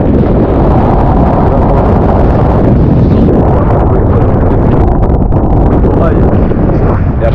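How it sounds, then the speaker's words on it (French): Strong wind buffeting the microphone on a beach at Ningaloo Reef near Exmouth, a steady loud roaring rush with no pauses. "si vous pouvez l'entendre, le vent, c'est vraiment le gros point noir"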